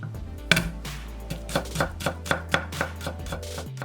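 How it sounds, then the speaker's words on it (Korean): Knife blade mincing three cloves of black garlic on a cutting board while making broccoli soup, a loud first chop followed by a steady run of crisp, evenly spaced taps close by, with no talking. "흑마늘 3개도 다져서 담고"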